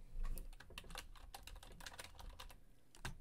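Rapid keystrokes on a computer keyboard as a commit summary is entered in a GitHub desktop app; the close, light clicks come in quick uneven bursts with short pauses, and no one speaks.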